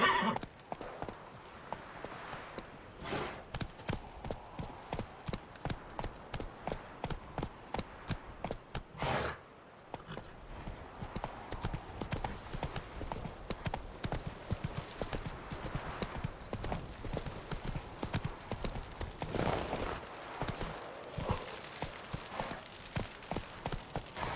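Horse hooves clip-clopping in a steady rhythm as a rider travels in The Witcher 3: Wild Hunt, loud and close throughout, with a neigh partway through and a few brief pauses in the gait.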